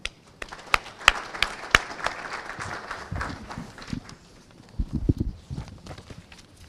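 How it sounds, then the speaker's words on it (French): Scattered applause from an audience at a student conference, a few sharp individual claps at first thickening into a moderate spatter of clapping, with some low rumbling room noise near the end. "Sous vos applaudissements"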